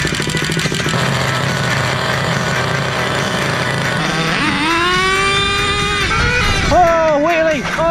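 An HPI Savage X4.6 nitro RC monster truck engine screams at high revs, a buzzy, rattling whine that climbs in pitch as the throttle opens, with brief revving bursts near the end.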